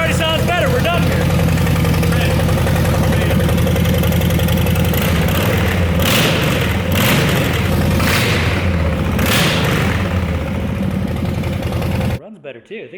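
Harley-Davidson M8 Softail engine firing up and running with no mufflers, loud raw rumbling revs swelling and falling close by for about twelve seconds, with voices talking over it before it cuts off.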